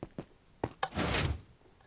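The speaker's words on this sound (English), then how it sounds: "Another piston door." A Minecraft piston door snaps open or shut: a few sharp mechanical thunks in quick succession, then a brief heavier shuffling slide, close and fairly loud against a quiet background.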